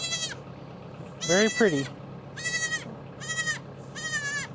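Goats on a farm with young kids bleat in a series of loud, quavering calls, including one deep wavering cry, while someone speaks briefly between them.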